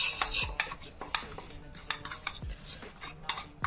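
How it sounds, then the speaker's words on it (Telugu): A spoon stirs and scrapes through an egg and spice mixture in a bowl for an egg sandwich, giving steady metallic clinks and scrapes in an uneven rhythm, close and fairly loud, with no voices. "దీన్ని మంచిగా మిక్స్ చేసుకోవాలి"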